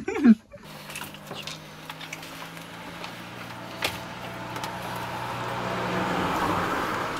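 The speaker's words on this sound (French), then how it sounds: "Le bruit que vous entendez, c'est la pluie." Steady rain hiss on Réunion, heard from a camper van, building gradually over a few seconds, with a brief voice and a faint low hum at the start.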